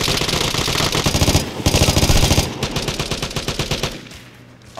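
Rapid bursts of ADR rifle fire in the video game Vigor, loud and close, with dense repeated shots running for several seconds before easing off near the end.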